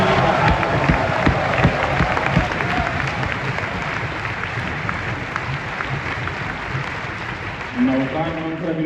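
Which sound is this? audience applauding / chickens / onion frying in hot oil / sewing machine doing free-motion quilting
audience applauding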